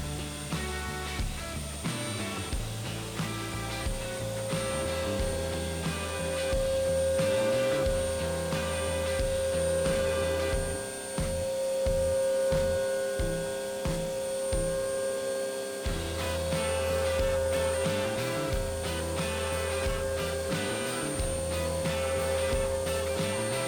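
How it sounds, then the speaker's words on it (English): A machine bores a cylinder hole in a billet SMX engine block, producing a loud, steady mechanical hum with a sustained high whine and rhythmic grinding pulses, continuous and close. "So it just bored that hole right there."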